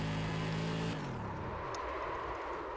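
Simulated SK Modified race car engine from iRacing, a loud steady harmonic drone that drops in pitch about a second in as the car lifts off, then continues as a rougher, lower roar.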